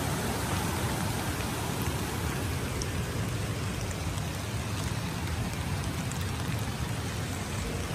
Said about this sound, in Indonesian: menunjukkan hujan masih lebat dan curah hujan cukup tinggi